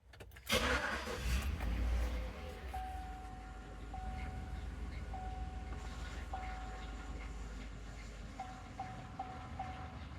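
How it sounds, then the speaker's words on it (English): A 2011 Chevrolet Tahoe engine idles roughly with a misfire in a repair shop, a steady low rumble heard up close after a brief louder burst at the start, with a faint intermittent tone above it. "I got a 2011 Tahoe in the shop today with a misfire."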